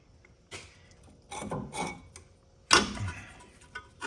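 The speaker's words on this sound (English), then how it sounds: "Now I'm gonna remove my banjo bolt from my caliper." A wrench loosening the banjo bolt on the rear brake caliper of a 2011 Jeep Wrangler Sport: a few quiet metallic ratcheting ticks and clicks, then one sharper close clack, with no talk.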